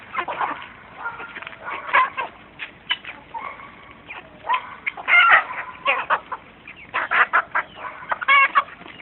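Several chickens cluck and squawk nearby in busy, overlapping bursts, with occasional soft voices in the background.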